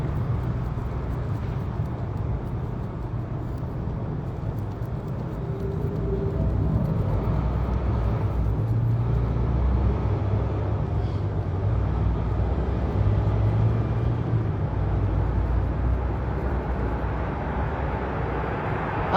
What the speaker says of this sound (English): Listening to the cars.